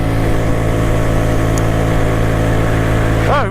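Suzuki Address 125cc scooter running at wide open throttle in fourth, a steady loud mid-pitched engine drone with constant tone throughout, dropping slightly at the very end.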